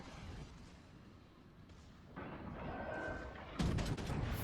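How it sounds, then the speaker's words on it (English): The German battleship Scharnhorst fires a salvo of heavy shells in World of Warships Legends, a dull booming report that rises out of low rumbling battle noise, with a second heavier blast near the end. "Put a second round of shells into him."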